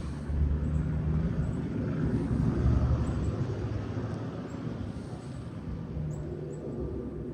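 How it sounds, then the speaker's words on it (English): A big airplane passes overhead near a railroad where a Union Pacific freight train is waiting, giving a steady, broad, loud rumble of engine noise that swells near the middle and then slowly eases, with no voices. "You're a big airplane, but I don't see him yet."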